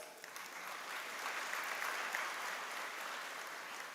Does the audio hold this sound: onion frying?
no